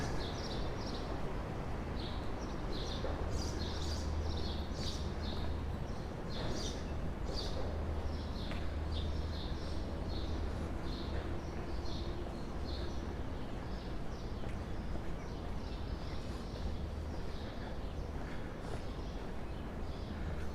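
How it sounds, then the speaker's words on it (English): Faint bird chirps repeat through steady outdoor background noise on a quiet morning in New York City, with scattered tweets rising and falling across the whole stretch. "You can hear the birds singing."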